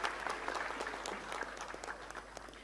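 An audience claps for the arriving transport minister at a MHADA Konkan Board housing lottery draw event, steady applause from a crowd heard at a moderate distance, filling the whole stretch.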